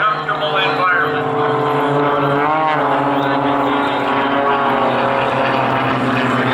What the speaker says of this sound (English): Mario Hamel is circling the leader, pulling 6 times the force of gravity in that tight turn